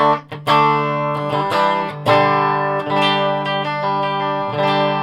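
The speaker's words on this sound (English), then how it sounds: "it's a big loud clean head amp, and this amp does it." Clean electric guitar chords through a Carlsboro Nu Tone 250W guitar head with internal reverb and no pedals, loud and bright, strummed in a steady rhythm with sustained, shimmering tones.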